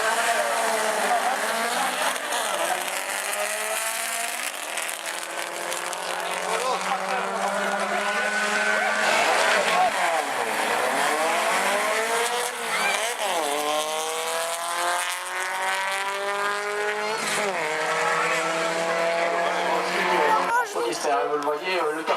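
A loud buggy race car with a large Stinger exhaust at the rear revs and accelerates repeatedly, its engine note rising and falling in sweeping pitch bends throughout, with someone talking over it.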